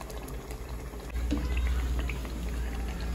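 Masoor dal and rice for a masoor pulao simmer in a pot, giving a steady close bubbling and hissing that swells louder partway through, with no talking.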